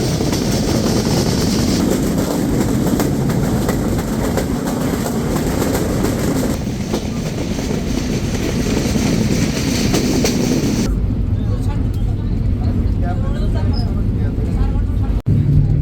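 The Chitra Express runs from Khulna to Dhaka, a loud, continuous rumble and rattle of the moving carriages that drops to a quieter, different tone near the end.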